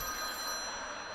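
A telephone rings loudly and steadily with a bright, continuous bell tone, heard alone for just over a second.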